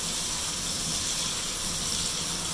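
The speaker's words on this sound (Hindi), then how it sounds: "1 मिनट के लिए आपने इसको फ्राई कर लेना है जिंजर गार्लिक पेस्ट को" Ginger garlic paste frying in a pan for a Patiala shahi chicken, a constant close hiss of sizzling oil with no talking.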